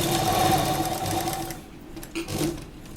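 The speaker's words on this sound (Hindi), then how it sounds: "यहाँ से हम सिलाई शुरू करेंगे।" A sewing machine stitching kurta fabric with a lining layer runs loud and steady with a fast mechanical whir, then slows and stops, leaving a few light handling clicks.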